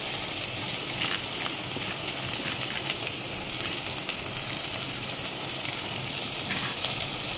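Soya chunks and whole garam masala frying in a pan for soya biryani, a steady broadband sizzle with faint stirring scrapes, close and continuous throughout.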